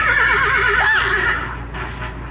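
A horse gives a loud, close neigh with a wavering, rising-and-falling whinny lasting about a second, over a steady background bed.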